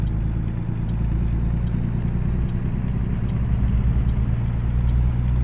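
A truck engine with an Eaton Fuller 10-speed transmission runs steadily during a gear shift, a continuous close low rumble with faint repeated ticking above it and no talk.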